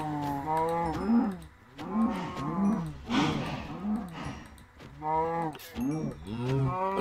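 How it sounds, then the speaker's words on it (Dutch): Video game cows in a blocky crafting game let out a series of repeated moos, several overlapping calls in a steady rhythm at moderate loudness, with no talking over them. "De koeien."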